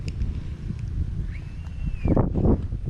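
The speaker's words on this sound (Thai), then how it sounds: "ลมแรงเกิน" Strong wind gusts outdoors, a steady roaring rumble across the whole stretch that swells louder near the end, with no talking.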